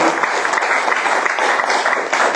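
An audience applauds, a dense and steady wash of clapping that runs loud and unbroken throughout.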